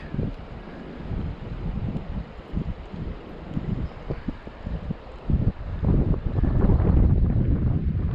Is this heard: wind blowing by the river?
yes